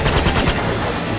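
Rapid automatic gunfire from the video game Uncharted 2 rattles out in a loud, close burst of quick shots that fade into a ringing tail.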